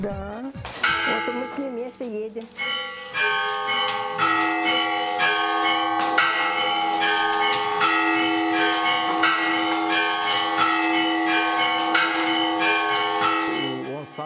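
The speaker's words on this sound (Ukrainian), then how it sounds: "Він б'є у дзвони о пів на восьму." Church bells ring out in a village bell tower, a dense, continuous peal of overlapping struck tones clanging in quick succession, loud and close, after a brief rustling start.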